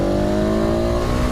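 2019 KTM 690 SMC R supermoto's single-cylinder engine pulling at steady revs, a loud, close, rising buzz for a brief moment.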